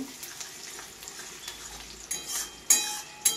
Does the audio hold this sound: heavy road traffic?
no